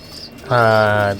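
A pigeon in a stock loft gives a single loud, close, droning coo lasting about half a second, preceded by faint background noise.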